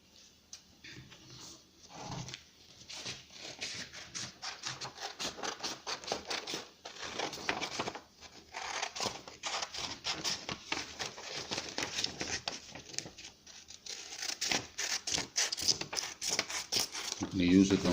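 Scissors snip and scrape through cardboard while cutting out a DIY cow slipper, a dense series of close crunching cuts that grows louder toward the end.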